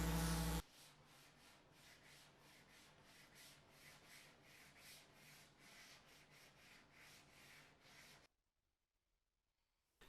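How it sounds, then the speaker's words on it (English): Power sander working over a wooden round tabletop, a steady rubbing whir with rhythmic passes that runs for most of the stretch, then stops abruptly into near silence. "I gently blended them together with a sander."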